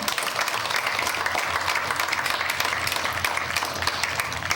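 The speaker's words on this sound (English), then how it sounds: "So now we can applaud for all those great people." Steady applause from an audience fills the whole stretch, a dense, even wash of clapping with no pauses.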